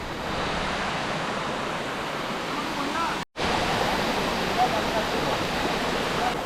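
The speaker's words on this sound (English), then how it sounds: "So that's the waterfall." A big waterfall in Malaysia roars as a steady, broad rush of falling water, heard close and loud. There is one brief dropout in the middle.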